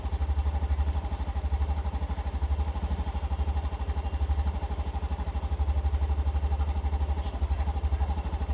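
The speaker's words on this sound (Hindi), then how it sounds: "होपफुली आपने स्कूटर का साउंड सुन लिया होगा कैसा है" A Honda Dio 125 scooter engine idles steadily just after a cold start, a close, even putter with a punchy exhaust note that holds constant throughout, with no voices over it.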